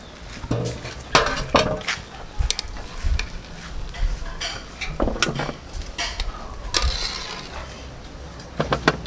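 Metal pot being handled and tipped to pour off oxtail broth, with several sharp clinks and knocks of metal against metal over splashy liquid and a low sizzling background.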